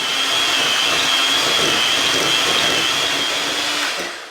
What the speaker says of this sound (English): we'll start the blending on the cream cheese and the butter